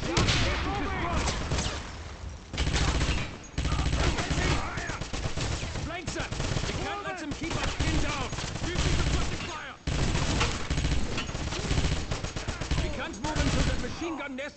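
Dense MG-42 machine gun fire in a Wolfenstein combat scene, loud rapid bursts layered with other gunshots and booms, nearly continuous, with shouted voices mixed through the battle.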